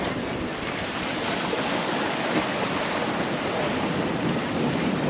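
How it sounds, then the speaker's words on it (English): Rough sea off Boca, Jamaica, heard from a fishing trip: a constant broadband wash of churning waves and surf mixed with wind buffeting the microphone, steady and fairly close with no talking. "Water rough."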